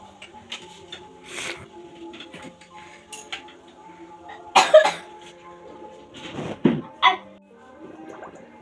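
A person coughs several times in short bursts, close by, between quiet clinks of dishes and cutlery in an indoor setting.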